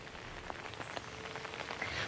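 Rain falls on a street as a steady, soft patter with scattered drop taps. It is fairly quiet, with no voices over it.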